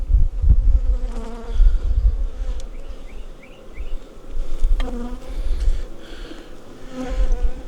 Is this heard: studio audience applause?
no